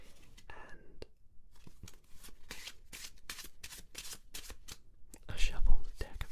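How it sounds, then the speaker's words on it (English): A deck of playing cards is shuffled close up in a quiet room, with repeated crisp riffling bursts and soft taps spaced irregularly, ending in a louder, fuller flurry. "a shuffled deck of cards."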